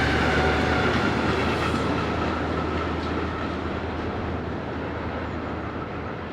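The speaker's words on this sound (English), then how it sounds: "Passing our location is diesel locomotive number 213340, a V100 built by MAK" A MAK-built V100 diesel locomotive from 1966 passes with its train along the Rhine Gorge in Germany, a loud close continuous rumble and rolling roar that eases slightly as it goes by.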